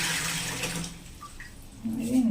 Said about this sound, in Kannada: ನೀರು ಫುಲ್ಲು ಗಲೀಜು ಬರ್ತಾ ಇದೆ